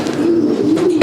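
Racing pigeons coo steadily in a loft, a continuous low throaty murmur from several birds close by, with a few soft rustles near the end.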